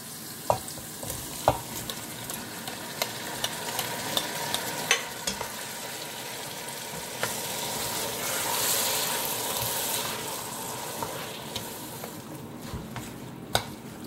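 Chopped tomatoes frying in a pan for a sautéed Chinese cabbage and chicken dish, a steady close sizzle with scattered sharp clicks and scrapes of stirring, swelling briefly louder midway, no talking.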